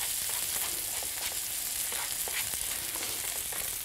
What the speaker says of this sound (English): I'm going to give this one another wee minute or two in the pan